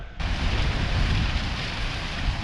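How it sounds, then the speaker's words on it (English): Small waterfalls tumbling into plunge pools on a Lake District fell between Stonethwaite and High Raise, a steady broadband rush of falling water, close and continuous with no voices. "little waterfalls and plunge pools"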